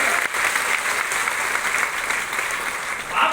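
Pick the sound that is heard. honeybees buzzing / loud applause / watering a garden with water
loud applause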